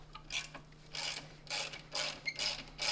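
A ratchet clicks in short bursts while loosening a bolt on a Subaru alternator, several rapid ratcheting strokes close up with brief pauses between, no talking.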